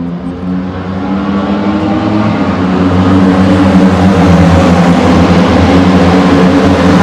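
A CFMoto 500SR with a 499cc four-cylinder engine and dual exhaust, a loud sustained engine drone with a steady low hum that builds slightly in intensity, heard up close without talk.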